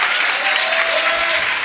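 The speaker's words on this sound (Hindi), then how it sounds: "जोरदार तालियां हमारे प्रभु के लिए" Loud, dense applause from a church congregation fills the space continuously, steady and close, with no speech standing out.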